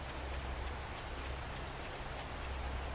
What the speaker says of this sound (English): Raining heavily